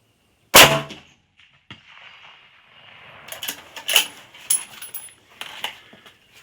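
A rifle round strikes a small steel plate target at 300 yards, one sharp loud metallic crack near the start, followed by scattered faint clatter and rustle.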